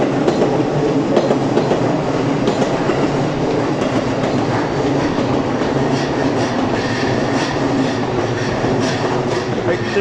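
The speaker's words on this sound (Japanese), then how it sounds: "湘南新宿ラインとか今京浜東北線も見えましたね" A train passes close by on the lines beside Omiya Station in Japan, with a loud, steady rumble and rhythmic clickety-clack of wheels on rails throughout.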